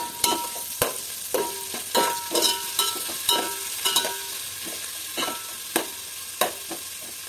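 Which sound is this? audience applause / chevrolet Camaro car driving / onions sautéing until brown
onions sautéing until brown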